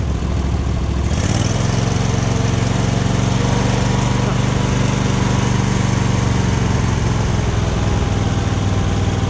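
A Murray Select riding mower that had sat unused for a year, its small engine sputtering and then catching about a second in, then running loud and steady up close, with a faint voice in the background.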